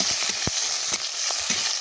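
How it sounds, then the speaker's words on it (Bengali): Onion and panch phoron frying in hot oil in a kadai: a constant bright sizzle with a few low thumps and scrapes from stirring, close and steady, with no voices. "দিয়ে 5 ফোড়নটা আর পেঁয়াজটা ভালো করে ভেজে নেব"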